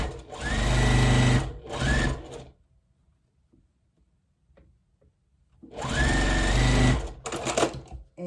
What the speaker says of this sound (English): So now flip it over and sew this.